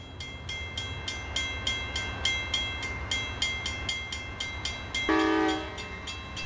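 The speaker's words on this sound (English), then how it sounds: "These are the familiar sights and sounds of train travel." An Amtrak passenger train rolls past with a steady, regular clickety-clack of wheels over rail joints, then a loud, sustained horn blast sounds near the end, with no talking.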